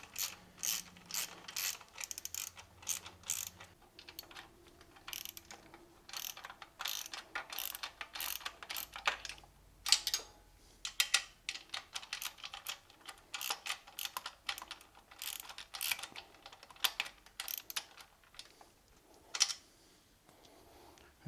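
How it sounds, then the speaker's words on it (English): Rapid ratchet clicking in repeated bursts as bolts are tightened one after another on a replacement vertical pump for a Ryobi 190cc pressure washer, close and crisp with no talking. "I'm just going to go around and just tighten them all up now, all the way."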